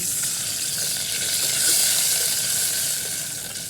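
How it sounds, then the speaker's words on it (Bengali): Onions fry lightly in a pan for a village-style puti fish curry with water lilies, giving a steady, fairly loud sizzling hiss with no voices. "এখন পেঁয়াজগুলোও হালকা ভেজে নিব পেঁয়াজ ভাজা হয়ে গেছে"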